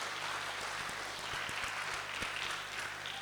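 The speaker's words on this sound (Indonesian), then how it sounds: "Kita tepuk tangan dulu untuk Romo Frans." An audience at an Indonesian talk show on climate change and local food gives a quiet, distant round of applause for a guest priest, steady and thin with a few sharper knocks.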